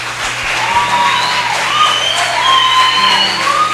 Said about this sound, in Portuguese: Vamos dar uma salva de palmas pela vida do David?